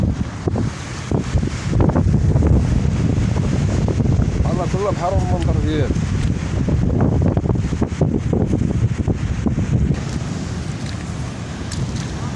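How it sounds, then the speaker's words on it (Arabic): Strong wind buffets the microphone by a rough sea at Zenata village in Morocco, a loud continuous rumble with gusts. Someone talks over it. "كاين الريح بزاف، يعني الصوت ما غيتسمعش مزيان"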